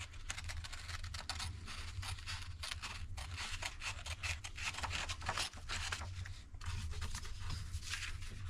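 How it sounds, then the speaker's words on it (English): Steady snipping and scraping of scissors cutting a tomahawk pattern out of paper, close by, with a constant low hum underneath and no talking. "Now we'll take the scissors."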